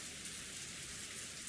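Steady rainfall, a dense, even hiss of drops on surfaces with no other sounds, soft and constant for a brief moment.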